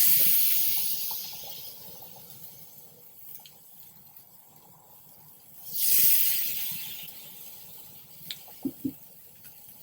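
Red snapper sizzling on a very hot, smoking Lotus Grill: a loud hiss at the start fades to a low crackle, swells again in a second burst midway, then settles with a few sharp pops near the end.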